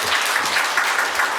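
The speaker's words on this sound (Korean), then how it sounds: "큰 박수 부탁드리겠습니다" Applause from an audience at a Korean National Assembly forum on bioenergy, steady broadband clapping filling the hall after a lawmaker's introduction, with no talk over it.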